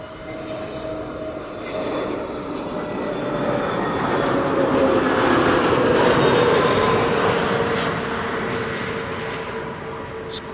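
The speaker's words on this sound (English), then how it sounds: "That's an A320neo" A TAP Air Portugal Airbus A320neo jet landing at Amsterdam Schiphol, its engine roar swelling steadily from a distance, peaking loud and broad as it passes, then easing slightly, heard alone without talk.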